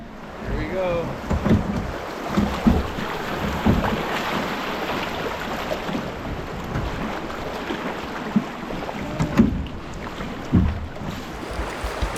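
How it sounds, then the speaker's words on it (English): Oars working a boat down a river with the outboard motor raised, irregular splashing strokes and knocks amid wind and moving water, with voices now and then. "So I pulled the motor up all the way and I'm just gonna row down it."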